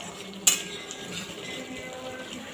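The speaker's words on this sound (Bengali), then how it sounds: "এবার সব মশলাগুলোকে ভালো করে কষিয়ে নেব ততক্ষণ কষাবো যতক্ষণ না পর্যন্ত মশলা দিয়ে তেল বেরিয়ে আসছে" Spices sautéing in oil in a pan: one sharp metallic clink of a utensil near the start, then a low, steady sizzle with faint stirring.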